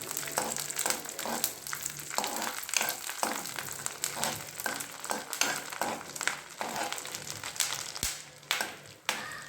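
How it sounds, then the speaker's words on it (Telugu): Cashews frying in a pan for kesari barfi, a steady close sizzle with repeated scraping stirs in an uneven rhythm throughout. "ఇందులోకి జీడిపప్పు వేసుకోవాలి. అవి బాగా వేగనివ్వాలి."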